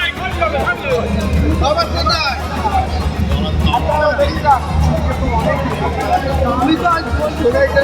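A dense crowd hubbub fills the Furfura Isale Sawab religious gathering in Bengal, with many overlapping voices chattering nearby and steady background clatter.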